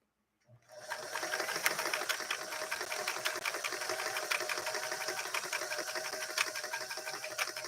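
A Singer 328K sewing machine sewing a fashion-disc stitch, likely a stretch blind hem, starting abruptly and then running as a steady, fast, close mechanical whir with rapid needle ticks, no voices.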